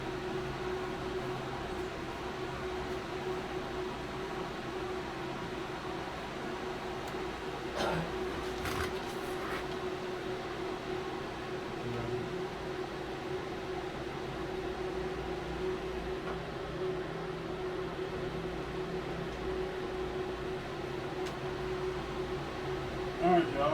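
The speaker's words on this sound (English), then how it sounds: "The fan is blowing this way, so it's sucking air in to the oil cooler." A fan blowing air through an engine oil cooler gives a steady, even whooshing drone with a faint hum, continuous and close, with a few brief clicks partway through.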